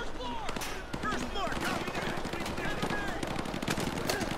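Gunfire in the Modern Warfare 2 Remastered campaign mission Exodus: rapid bursts of automatic fire and scattered shots crackle steadily, close and loud, with game voices and effects mixed underneath.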